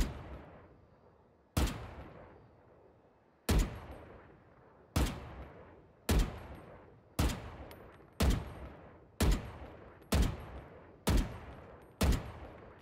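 Single rifle shots from the Valorant shooting game fire at a slow, steady pace, roughly a dozen sharp cracks each ringing off with a short decaying tail, loud and isolated with no talk.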